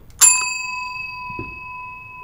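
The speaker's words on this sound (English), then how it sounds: "I guess I gotta go ring the bell again." A single bright video-game bell ding rings out and hangs with a long, steady tone, with a faint soft knock partway through.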